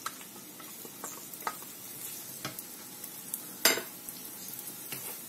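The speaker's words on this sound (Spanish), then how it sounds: "Así que esto vamos a empezar a sofreírlo. Y echaremos la cebolla." Yellow, green and red bell peppers with onion sauté in a pan, a quiet, continuous sizzle broken by a few sharp utensil clicks and taps against the pan.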